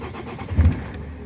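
A van's engine cranks and catches after air was bled from the fuel line, a brief low churning turnover that swells into a short burst of firing before settling, close and fairly loud.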